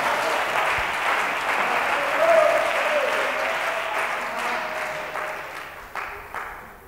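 A church congregation applauds in a steady, dense burst of clapping that swells briefly and then fades toward the end, with faint voices mixed in.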